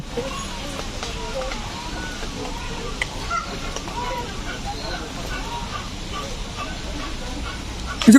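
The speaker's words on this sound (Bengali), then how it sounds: "কত পাখি" A chorus of birds honking and calling in the background at a bird park in Malaysia, overlapping and continuous, under faint voices and ambient noise.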